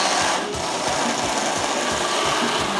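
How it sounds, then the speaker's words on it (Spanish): A blender whirs steadily and loudly, close by, as it purées tortilla soup ingredients, a dense continuous motor roar with a faint chopping pulse and no talking. "Y vamos a proceder a licuar."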